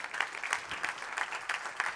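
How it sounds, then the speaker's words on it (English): A conference audience at a green technology event claps to welcome a speaker to the stage, fairly faint and a little distant, with a loose, uneven patter of hands and no voices. "give a warm welcome, a round of applause for Lubomila Jordanova"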